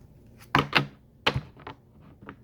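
Close, dry papery riffles and slaps of tarot cards being shuffled, in two or three quick bursts with short pauses between, no talking.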